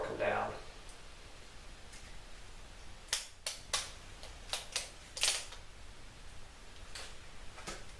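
A torque wrench clicks sharply several times while clutch bolts on an SL-C build are tightened, a short irregular run of close, crisp snaps over quiet background.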